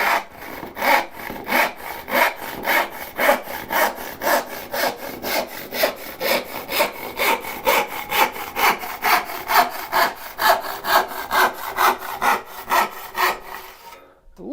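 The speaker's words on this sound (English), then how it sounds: "Love a good sharp saw." A big, sharp handsaw cuts through a flexing wooden board in steady back-and-forth strokes, about thirty rasping passes in an even rhythm, close and clear with no talking, ending abruptly.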